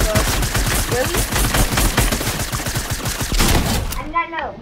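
Rapid bursts of gunfire from a video game fill the whole stretch, dense and loud, with a brief synthetic whoosh near the end.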